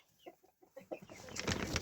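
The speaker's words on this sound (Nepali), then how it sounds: "हाम्रो चाहिँ कुखुरा छ। कति केजी होला यो भाले?" A large farm rooster of roughly five kilograms clucking close by, a quick series of short throaty clucks followed by a louder rustling burst.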